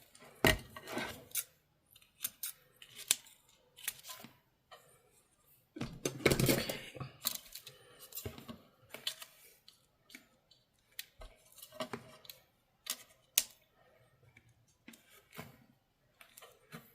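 Scissors snip through a paper junk mail envelope while making pockets, giving scattered sharp cuts and crisp paper rustles with a louder burst of handling partway through, close and quiet with no talk.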